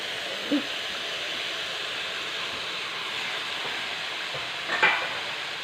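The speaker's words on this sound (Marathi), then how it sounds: "अशा प्रकारे दोन मिनटं आपल्याला भाजी परतून घ्यायची आहे" Chopped dill greens (shepu) stir-fry in a pan, giving a steady, moderate sizzle throughout, broken by a couple of brief scraping stirs.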